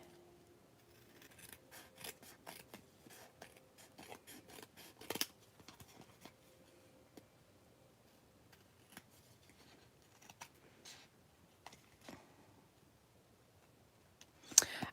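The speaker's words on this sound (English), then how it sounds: "I'm going to use my snips to cut through, because we've got quite a few layers in a few spots" Snips cut through thick layers of paper in a papercraft stamping session, a faint series of close, crisp snipping clicks and rasps, irregularly spaced, with a sharper crunch near the end.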